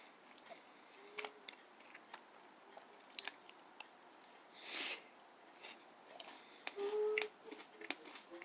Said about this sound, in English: This one is very easy to chew.